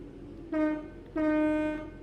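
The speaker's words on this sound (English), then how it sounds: "Ah, so that's the horn." Two long, loud train horn blasts from Train Sim World 4, a short one followed by a longer one after a brief gap, steady and tonal with no voices.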